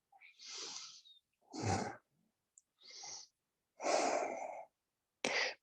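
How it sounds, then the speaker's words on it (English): Slow, deep breaths taken during a yoga practice, five separate inhales and exhales spaced by short pauses, close and fairly loud with no talking. "And of course, it's deep breaths."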